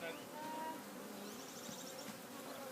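Clump of 15,000 to 20,000 honey bees clustered as a swarm, a continuous dense buzzing hum, close and faint, steady throughout with no speech.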